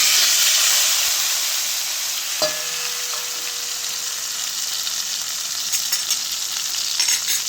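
Tomatoes and asafoetida sizzle and fry in hot oil, a loud steady hiss with a brief clatter as they hit the pan, then continuous crackling frying close by.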